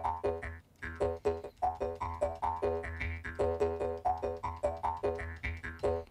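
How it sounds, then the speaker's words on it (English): A Western jaw harp from the free Cowboy Harp VST plugin plays alone in a bouncy, steady rhythm of short twanging plucks with a buzzing, resonant tone. "Right, so this is a Western jaw harp,"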